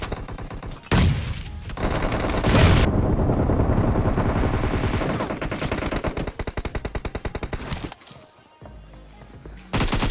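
Rapid automatic gunfire rattles loud and close in PUBG Mobile, with sustained bursts and a brief pause, then the shooting starts again at the end.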